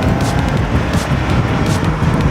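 A Toyota AE86 with a 20-valve engine and individual throttle bodies drives along, its engine rumbling loud and close from inside the cabin in a steady, continuous drone.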